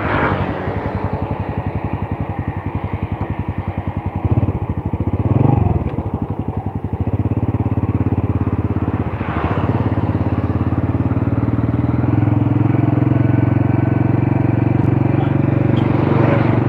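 A Honda Grand motorcycle ridden in first gear gives a loud, close, rapid engine putter that rises in revs and settles into a steadier drone, with a brief voice partway through.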